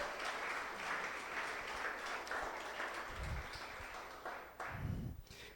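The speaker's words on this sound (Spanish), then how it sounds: "Démosle otro fuerte aplauso al Señor," A church congregation applauds during a Spanish-language Sunday sermon, loud steady clapping filling the hall throughout, with no voices over it.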